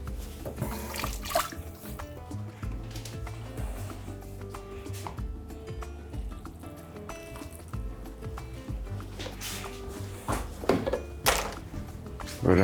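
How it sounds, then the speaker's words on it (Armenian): Lukewarm water poured into a glass jar over pieces of eggplant, a running, gurgling fill with clinks and thunks against the glass, close and fairly loud, with faint background music. "վրան լցնում ենք գոլ ջուր։"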